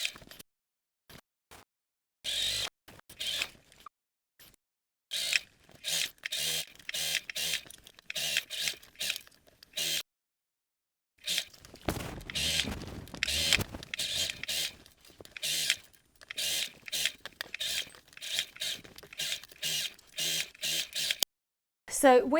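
A sewing machine stitches a seam on a hobo bag in short, stop-start bursts of close mechanical whirring, separated by brief silences and a few light clicks.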